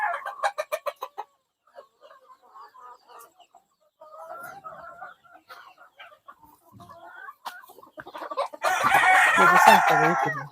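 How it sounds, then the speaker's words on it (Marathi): Native free-range hens cluck in quick rhythmic bursts and softer chatter, then a pure desi Phaltan rooster crows loudly and close at the end. "हा प्युअर देशी कोंबडा आहे"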